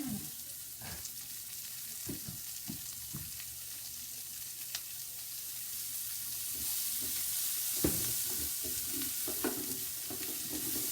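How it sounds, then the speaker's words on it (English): Onions fry in oil until browned for a tagine, giving a steady close sizzle with occasional scrapes and stirring knocks of a spoon against the pan, no voices. "And you want to cook your onions until they're brown."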